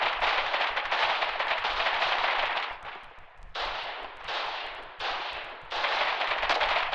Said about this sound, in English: Second howitzer shell now landing.